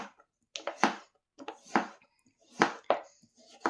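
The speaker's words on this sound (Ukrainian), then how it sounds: "Картоплю наріжемо на слайси, ну, на такі кружельця" A knife cuts potatoes into round slices in a series of crisp, separate cuts on a board, close and fairly quiet, in an uneven rhythm.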